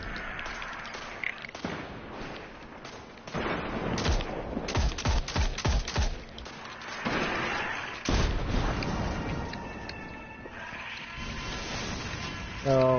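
A hand cannon fires in the video game Destiny, with bursts of loud, punchy shots clustered in the middle and heavy impacts amid busy game sounds and effects.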